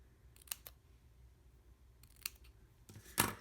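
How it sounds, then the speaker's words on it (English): Scissors snip paper to flag the ends of a strip for a Halloween treat bag, a few short crisp cuts close by in a quiet room, ending with one louder snip. "So I'll cut here and just flag it like so."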